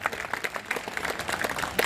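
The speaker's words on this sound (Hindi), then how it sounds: "उनके लिए आप जोरदार तालियां बजाएं।" An audience at a priests' association meeting at Beneshwar Dham claps in a brief, lively burst of applause, dense and even throughout.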